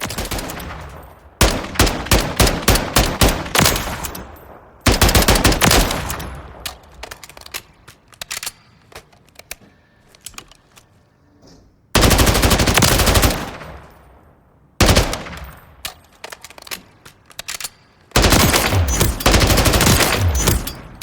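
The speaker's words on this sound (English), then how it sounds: ".762x51mm, very high rate of fire there too in full auto" M1A rifle firing full-auto 7.62x51mm in Call of Duty Modern Warfare III, with loud, rapid bursts of gunfire separated by short pauses and ringing tails, and no talking.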